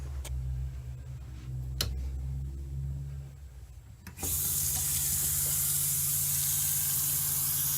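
Water from a tap in an RV sink flows freely and steadily down the drain as a loud, continuous hiss that starts suddenly partway through, after a quieter stretch with low hum and a few clicks.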